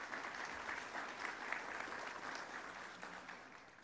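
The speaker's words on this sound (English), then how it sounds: "Give our table sponsors applause as well." Sustained audience applause fills a chamber of commerce annual meeting in Midland, Texas, steady and dense throughout with a broad hiss of many hands at moderate distance, no talk over it.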